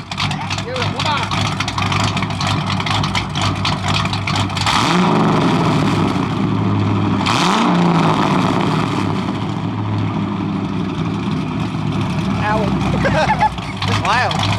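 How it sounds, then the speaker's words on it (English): A car with a big cam and an extensive muffler delete idles loudly and choppily, with a couple of revs swelling through the middle while people talk over the engine. "it has a really extensive muffler delete, as you can hear. Yeah, it's pretty loud. Give it a rev."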